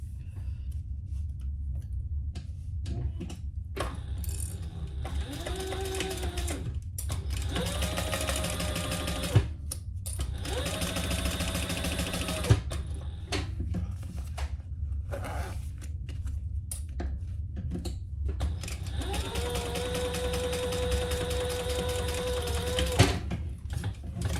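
A sewing machine top stitches a quarter-inch seam on a handmade holiday gift, running in several bursts of steady mechanical whirring separated by short pauses, close and clear with no talk.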